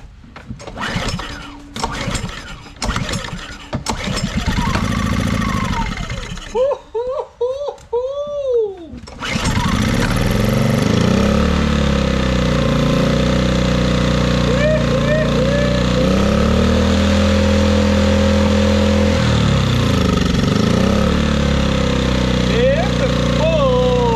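A Yamaha generator engine turns over with several sputtering pulls, then catches and settles into a loud, steady running drone that continues to the end, with a person talking briefly near the start.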